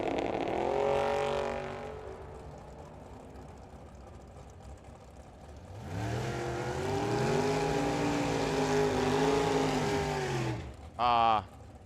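Drag racing cars, including a Camaro, launch down the strip at Firebird Raceway in Phoenix, their engines roaring up in two rising surges, one short and one sustained, with a track announcer talking over them.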